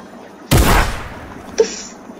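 A single loud, close gunshot in a video game booms out with a short decaying tail, followed a second later by a smaller, sharp pop, with no talking.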